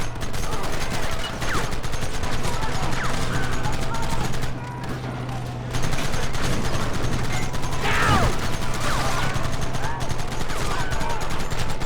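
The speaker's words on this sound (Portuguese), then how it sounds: "eu tô tomando muito tiro e não tem como me proteger" Gunfire in Red Dead Redemption, with rapid, clattering shots and mechanical rattling over a dense, loud battle ambience, continuing steadily apart from a short dip midway.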